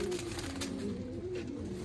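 Lakha pigeons from Multan coo softly but continuously up close, a low, rolling murmur with no speech.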